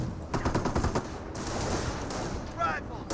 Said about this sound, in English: Panzer Grenadiers focus firing down these riflemen.